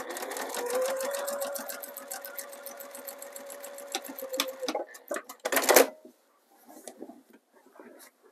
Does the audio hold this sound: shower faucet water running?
no